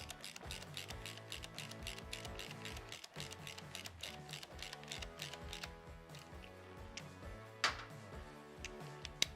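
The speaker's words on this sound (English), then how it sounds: "We're going to insert our teeth holder in between the sprockets and hand tighten" Hand tightening of bolts on S&S Cycle motorcycle cam chest sprockets, with a tooth holder wedged between them, produces a dense run of metallic clicks and ratcheting ticks at close range, steady and rhythmic with no talk.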